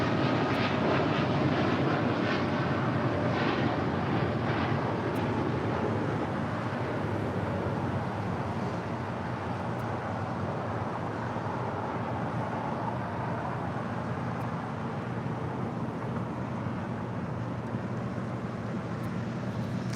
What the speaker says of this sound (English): Coming in from Denver, Colorado, United Airlines flight 1093 in the 757-300.